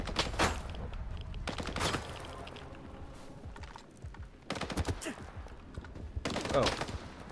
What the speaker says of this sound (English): Shooting from there.